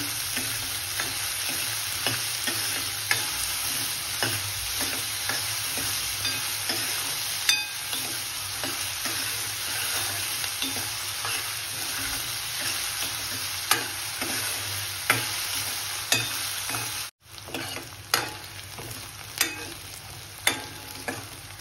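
Onions sautéing in a pan until golden brown for prawn masala, a continuous loud sizzle with frequent light stirring clicks, close, going on steadily for a long stretch with a brief break near the end.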